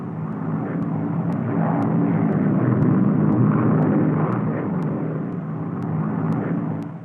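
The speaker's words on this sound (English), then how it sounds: "Presented herewith is a new type of airplane, a primary trainer escort, under absolute control at 90 miles an hour indicated." A Lockheed P-38 Lightning fighter plane accelerates, its engines giving a loud, steady, rumbling roar that swells and eases slightly across the stretch, with faint regular ticks in the background.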